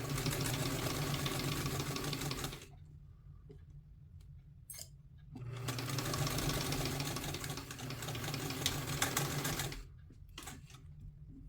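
A sewing machine stitches a two-piece collar in two steady, loud runs of continuous whirring. A brief quiet pause separates them, and the machine stops near the end.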